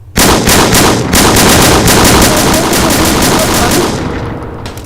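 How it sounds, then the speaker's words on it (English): Rapid, loud bursts of gunfire from an odd-looking shotgun in a modded video game, a continuous rattling barrage of shots that runs for several seconds before tapering off at the end. "You see how effective this weird-looking shotgun is."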